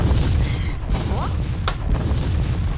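A reactor core blows up in the video game Half-Life 2: Episode One, a steady, loud, roaring rumble with a sharp crack partway through, thick low-end boom sustained for the whole stretch.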